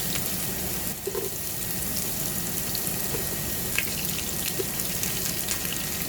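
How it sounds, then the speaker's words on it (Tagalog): Garlic and ginger sautéing in hot cooking oil for a Filipino kare-kare base, a steady close sizzle and crackle with faint clinks, continuous and fairly loud with no talking over it. "Painit na tayo ng mantika. Ito, gisa natin bawang,"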